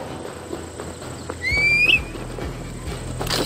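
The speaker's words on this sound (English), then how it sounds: "Come, horse, come." Horse in the Assassin's Creed Valhalla video game: steady clip-clop hoofbeats of walking with a sharp, rising whinny in the middle, close and fairly loud over low ambient game background.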